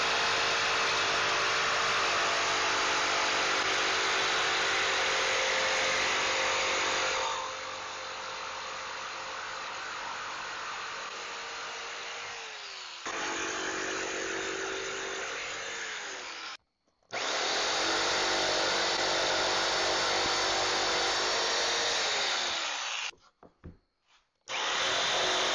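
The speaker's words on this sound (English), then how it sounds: "cut out your shape with the jigsaw" A jigsaw cuts a clear pine 1x6 board, its loud buzzing, rasping blade running steadily for long stretches with pitch dips as the cut slows, pausing briefly between runs.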